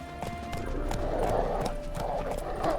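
Roach, the horse in the video game The Witcher 3, gallops with steady, close clip-clop hoofbeats throughout, loud and continuous with no talk over them.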